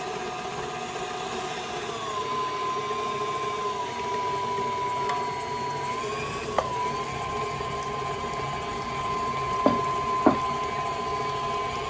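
A stand mixer steadily whirs as it creams coconut oil, butter and sugar, a constant motor drone with a faint whine and a few small clicks, no voices.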